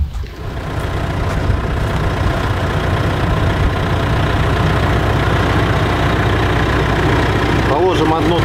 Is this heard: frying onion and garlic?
no